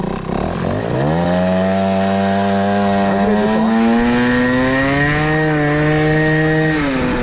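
A Peugeot 103 SPX moped with an SHA carburettor pulls away, its small two-stroke engine rising from idle into a buzzing, climbing drone that holds steady and close throughout.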